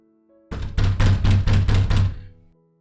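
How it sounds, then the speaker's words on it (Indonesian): Heavy fists pound on an apartment door in a rapid series of about seven loud, booming thuds, close and alone over a faint musical background, produced as an audiobook sound effect. "mendengar pintu apartemen digedor-gedor"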